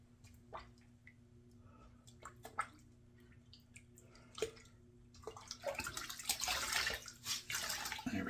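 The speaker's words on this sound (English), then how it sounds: "Now I do take the time to rinse out my washcloth now because I'm using it again a little bit." Washcloth wrung and rinsed under running water at a sink during a shave, with soft drips and squishes at first, then a louder, steady splash of tap water near the end.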